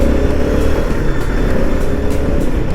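Dense road traffic on the Indore–Khandwa road in India sounds from inside a moving vehicle as a loud, continuous engine and tyre roar with no break.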